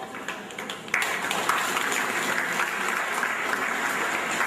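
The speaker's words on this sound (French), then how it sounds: "Ici au podium, sous vos applaudissements." An audience at a seminar applauds as someone is called to the podium; dense, even clapping that swells sharply louder about a second in and holds steady.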